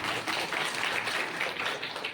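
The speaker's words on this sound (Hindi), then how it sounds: "जबरदस्त तालियां आप सभी के लिए, जबरदस्त तालियां" A crowd at a network marketing seminar in a hotel hall claps, steady applause rolling on for a couple of seconds at moderate loudness.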